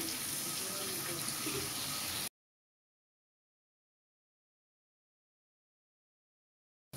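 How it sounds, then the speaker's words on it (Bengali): Water poured into a pan of snakehead fish curry with yam: a brief, steady splashing pour lasting about two seconds, followed by total silence. "এখন দিয়ে দিব একটু পানি"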